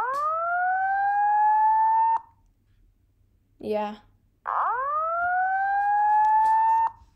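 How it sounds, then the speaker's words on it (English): Two-stage fire alarm in a video game, rising electronic siren tones in two long sustained blasts separated by a short spoken word, loud and close. "in order to activate a two-stage fire alarm"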